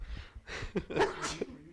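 A single close sneeze with a quick inhale before it and a short burst, followed by a little breathing.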